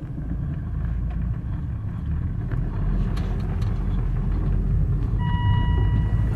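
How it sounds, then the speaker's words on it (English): A Volvo car creeps forward with a low engine rumble and road noise, steady and close throughout, with a faint electronic tone near the end. "So I'm just going to drive forward here."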